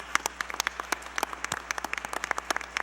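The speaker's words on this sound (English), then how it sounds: "Will everyone please join me in a round of applause for all our music educators" Applause at a board of education meeting, a thin scattering of individual claps from a small audience, crisp and fairly close, with uneven rhythm over a faint hum.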